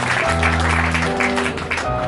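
Applause at a launch party on avenue Foch in Lyon, dense clapping from an audience that continues steadily throughout, with a sustained tonal hum from music or a PA underneath.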